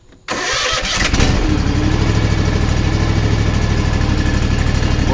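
Ariens XD snowblower engine with a new ignition switch cranks and catches, then settles into a loud, steady, close running drone.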